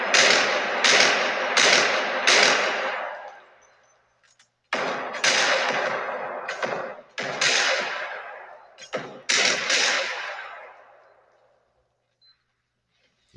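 Gunfire in the hyper-realistic first-person shooter game Body Cam, with bursts of sharp, loud shots in two volleys separated by a short pause, each crack trailing into a reverberant tail, close and unaccompanied.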